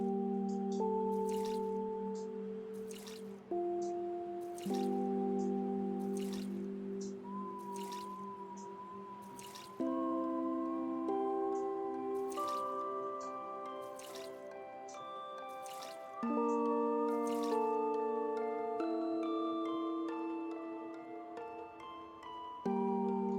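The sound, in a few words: watering plants in video game Omori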